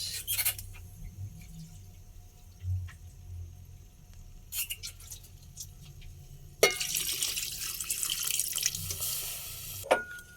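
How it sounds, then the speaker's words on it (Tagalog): Water runs and splashes into a cooking pot for pork sinigang with a steady rushing sound, starting partway through after quieter clinks and handling noises. "yan lagyan natin tubig mga guys"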